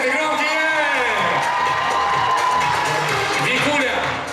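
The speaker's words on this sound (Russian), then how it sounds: "аплодисменты громкие." An audience at a university Miss and Mister pageant contest claps and cheers loudly, with whoops and shouts blending into a dense, continuous crowd roar.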